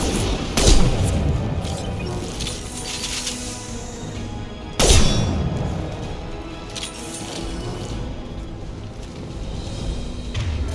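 Mass Effect 2 combat: two heavy, close gunshot blasts land about four seconds apart, each followed by a long ringing, crackling tail of battle noise.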